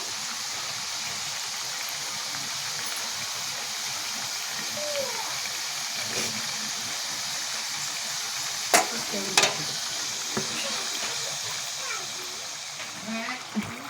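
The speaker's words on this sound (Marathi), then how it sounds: "आपल्याला मीडियम गॅसवरती तळून घ्यायच्या चकल्या" Chakli deep-fry in hot oil over a medium gas flame, giving a dense, steady bubbling hiss that holds throughout, with a couple of sharper clinks near the end and a voice speaking faintly beneath it.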